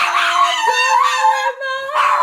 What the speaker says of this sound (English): now here comes the good howl